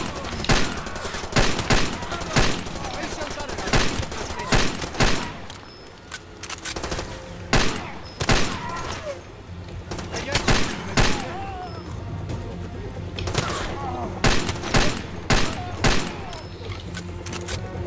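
Desert Eagle pistol gunfire in the video game Far Cry 2: loud, sharp shots fired one after another at a roughly steady pace of about one per second, over a low background of battle ambience.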